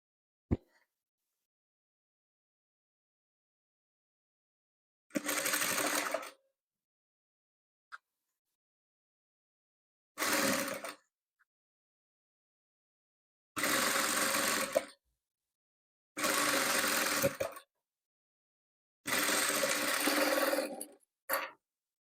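A sewing machine stitches patchwork fabric for a traditional Kazakh quilt in five separate bursts of close, buzzing whir of about one to two seconds each. Silent pauses fall between the runs.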